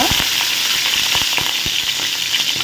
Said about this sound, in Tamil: எண்ணெய் காஞ்சதுக்கப்புறமா இந்த மாதிரி உருளைக்கிழங்கு வந்து சின்ன சின்னதாக கட் பண்ணி தான் போட்டுக்கோங்க